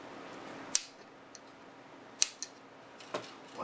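Sharp, isolated snips as a part is cut from a Shiba Soku model 216/1 NTSC color bar generator, with a few crisp cuts spaced apart over a quiet background.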